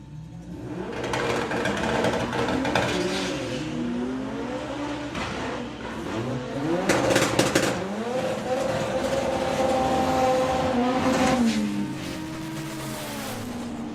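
The Bad Habit S3 drag car at the Bug Jam festival, its engine revving and rising through the gears as it launches down the strip, loud and continuous with falling and climbing pitch sweeps over crowd-free ambience.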